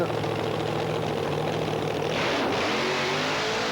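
A Top Alcohol Funny Car drag racing engine at a drag strip event, a loud continuous engine roar with a rising, revving tone near the end, filling the whole clip without voices.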